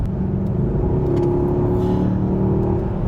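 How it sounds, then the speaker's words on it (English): Mercedes GLS63 engine accelerating, a close, loud, steady low rumble heard from inside the cabin, with no speech. "And that engine just sounds so good."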